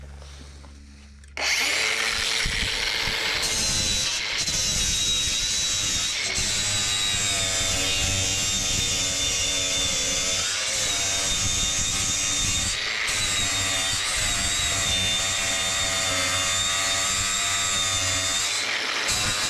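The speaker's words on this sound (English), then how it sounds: "we'll hit it all with a flap disc and see how it turns out" A flap disc grinds the floor of a 1996 Ford F350 truck, kicking in abruptly after a quiet start and holding a loud, harsh, whining grind with a few brief dips as the disc shifts on the metal.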